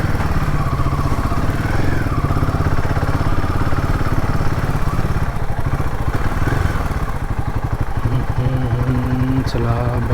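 A motorcycle engine idles close by with a steady throbbing putter throughout, while people talk over it.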